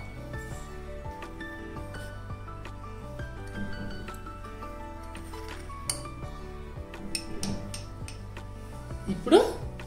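Dough ingredients, including a pinch of turmeric, get mixed in a bowl by hand, with clinks of utensils against the bowl, soft squishing and scattered taps, fairly quiet, plus a sharp rising squeak near the end.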